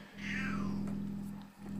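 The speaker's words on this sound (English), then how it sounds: "my cat meowing" A domestic cat meows close by, one drawn-out falling meow over a steady low electronic hum from game audio, followed by a fainter second call.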